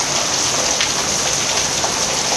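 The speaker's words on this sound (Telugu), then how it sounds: "వర్షం మటుకు ఇలాగే పడాలి, పైనుంచి ఇలా వాటర్ పడతా" Heavy rain pours down steadily onto a surface, a loud, dense, unbroken hiss of drops close by with no talk.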